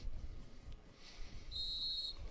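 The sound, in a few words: whistle starting a mountain bike race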